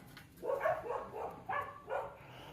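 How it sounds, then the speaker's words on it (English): Dogs bark at a building site where a hole is being templated, giving about four separate bursts spread over a couple of seconds at moderate distance. The barks sound excited and are mixed with background noise. "And the dogs are kicking off."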